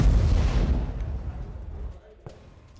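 Missile strike explosions in Tel Aviv, a heavy booming rumble that fades over about two seconds, followed by a sharp distant crack.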